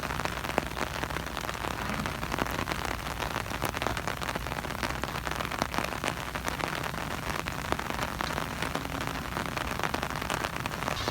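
Steady heavy rain pours down during outdoor work in Surin, Thailand, a dense continuous hiss of drops hitting surfaces with scattered sharper patters, close and even throughout.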